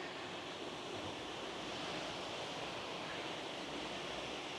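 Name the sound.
wind blowing by a canal sluice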